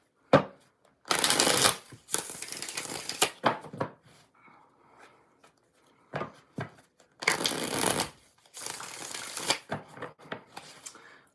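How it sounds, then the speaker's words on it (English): Tarot cards are shuffled by hand in several separate bursts, each a crisp riffling flutter, close and fairly loud, with brief quiet gaps between. "5 shuffles"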